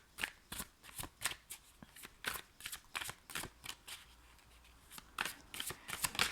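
Tarot cards are shuffled by hand in a quiet room, giving a steady series of crisp riffling bursts with short pauses between them and no talking.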